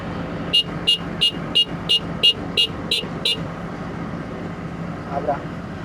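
A newly delivered combine harvester runs with a low, steady rumble beneath a string of eight sharp, evenly spaced warning beeps, then idles on alone.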